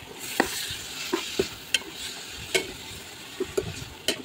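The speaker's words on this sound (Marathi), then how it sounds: "तेल घालून परत परतून घेतली भाजी." Sprouted moth bean curry with crushed peanuts and coriander being stirred in a little oil in a pan, giving a steady low sizzle broken by sharp scrapes and clinks of the spoon, close and with no talking.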